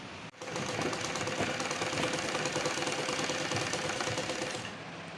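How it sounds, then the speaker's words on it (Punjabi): A sewing machine stitches fabric and piping in a steady, fast mechanical whir that starts after a brief pause, runs loud and continuous for several seconds, then stops near the end, with no talking over it. "ਇਸ ਤਰ੍ਹਾਂ ਉੱਪਰ ਧਰ ਕੇ ਆਪਾਂ ਸਿਲਾਈ ਲਗਾ ਦਾਂਗੇ ਇਹਦੇ ਉੱਪਰ"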